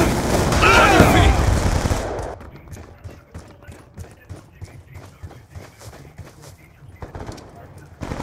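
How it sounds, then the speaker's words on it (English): A Death Machine minigun fires in a first-person shooter match: a loud, dense burst of automatic fire up front, then a long run of rapid, evenly spaced shots at lower level, with faint game voice callouts. "Friendly death machine spinning up"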